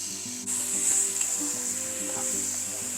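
Chicken pieces mixed with turmeric, salt and oil sizzling in a pan with a green chilli and pepper tempering: a steady, bright frying hiss with scraping stirring strokes against the pan, close and continuous.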